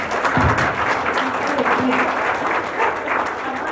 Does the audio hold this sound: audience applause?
yes